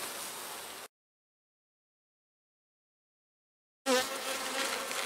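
Honeybees buzzing at a beehive during hive work, a dense hum heard alone for under a second, then cut off by silence before the swarm-like drone returns louder.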